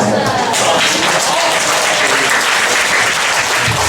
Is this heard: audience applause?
yes